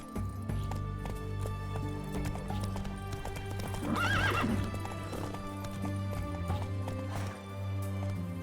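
Geralt's horse Roach in The Witcher 3 gallops with rapid rhythmic hoofbeats and lets out a clear whinnying neigh midway, set against a low musical game soundscape.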